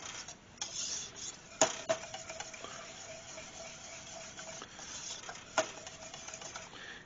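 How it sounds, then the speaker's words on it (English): Whisk clinking against a pan while stirring melted cheese sauce for potatoes au gratin, a quiet, steady metallic scraping with a couple of sharper taps, no talking. "I'm going to use a whisk here just to ensure."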